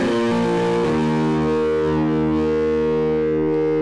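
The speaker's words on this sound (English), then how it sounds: "You can even run the signal from the Screamer distortion pedal into the Twang amp, an amplifier model that produces a classic rich tube sound." An electric guitar runs through a Screamer distortion pedal into a Twang tube amp model in Kontakt 3: a couple of quick gritty notes, then one sustained distorted chord ringing out and slowly fading, with no talking.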